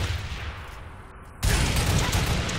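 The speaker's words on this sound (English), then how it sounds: "Put some shots in for Allure here." Gunfire in Halo multiplayer on the Sanctuary map, a dense burst of shots erupting suddenly partway through and continuing loud and steady over low game ambience.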